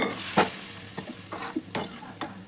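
Garlic, pepper and cooked dal with spinach stirred in a pan, several soft scraping strokes with a faint sizzle beneath, close and fairly quiet.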